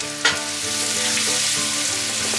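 Onions fry and brown in a hot pan, giving a steady loud sizzle with occasional stirring scrapes and no voices.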